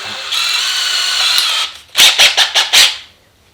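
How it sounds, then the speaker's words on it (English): A drill fitted with a 17/64 bit bores into thick PVC, starting with a steady whining run of about a second and a half, then a short gap and four or five quick loud bursts of grinding squeal. "Let's make a small hole in it. Let's use 17/64 bit for that."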